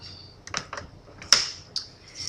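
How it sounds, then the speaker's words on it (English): Short dry scraping strokes and taps as a bone folder creases folded cardstock along its score line, several quick close swipes spaced about half a second apart with no talking. "we'll fold it on the score and use our bone folder again to give it a nice crisp fold"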